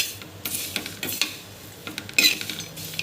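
Dried grated coconut roasting on a low flame is stirred in a pan, with soft scraping strokes, light utensil clinks and a faint crackle, fairly quiet and close.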